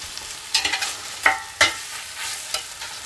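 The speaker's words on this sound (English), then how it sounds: "we're going to add 10 ounces of homemade chorizo. We're going to break up the chorizo into smaller chunks." Homemade chorizo cooks in a pan with onion while a utensil breaks it into chunks, giving a steady close sizzle with several sharp scraping stirs and no talking.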